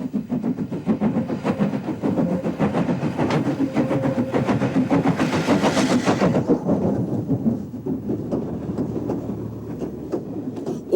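A train labors up the hard climb away from Roscommon, Ireland, on slippery rails, its engine chugging in loud, rapid beats that swell and then ease toward the end.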